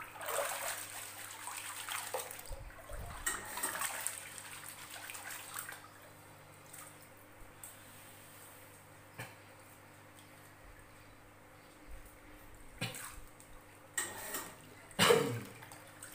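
Soybeans are stirred in water to separate the tempeh skins, giving soft sloshing and trickling close by with quiet stretches between sparse splashes and a louder splash near the end.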